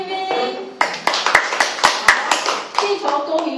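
A few people at a press Q&A event break into scattered clapping, a short burst of sharp, uneven hand claps close by, mixed with a voice talking at the start and the end.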